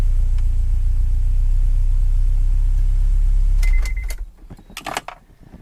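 A turbocharged Honda H22 with 1000cc injectors and Hondata, running rich, gives a loud, steady close-up rumble that cuts off abruptly after a few seconds, leaving faint scattered clicks and knocks.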